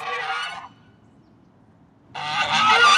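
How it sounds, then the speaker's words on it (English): Three white geese give loud honking calls, a burst at the start, then a pause of quiet, then more honks returning loudly near the end, with no talk. "Honk, honk, honk went 3 white geese."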